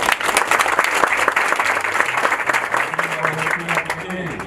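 Audience applause at a university ceremony honouring instructors of youth trainees, a steady wash of many hands clapping that fills the whole stretch, with faint voices mixed in underneath.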